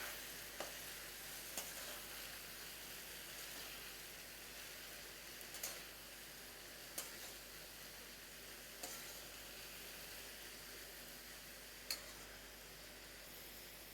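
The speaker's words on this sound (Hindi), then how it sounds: "ये अंडा बैगन ऐड कर देंगे। अभी मैं अच्छे से मिक्स करेंगे।" An egg and eggplant mixture sizzles softly in a frying pan while a spoon stirs it, with a faint steady crackle broken by a few sharp taps of the utensil against the pan.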